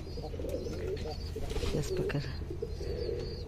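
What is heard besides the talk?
pigeons cooing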